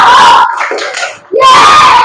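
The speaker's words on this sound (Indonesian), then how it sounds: "Coba tepuk semangat." A group of students in a classroom lesson does a spirited clapping cheer, loud and close: a burst of rhythmic clapping and chanted voices, a brief pause, then a second loud burst.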